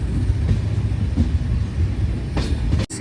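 A train on an underground stretch of railway track rolls past on the Mangaluru to Yeshwantpur route, a loud steady low rumble with faint clanks that cuts off abruptly near the end.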